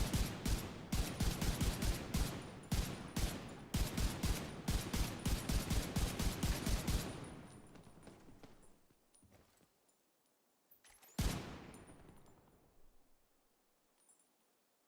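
Rapid bursts of gunfire in The Division 2 on the streets of Brooklyn, a dense string of loud shots for several seconds, then a quieter stretch broken by one more sharp blast.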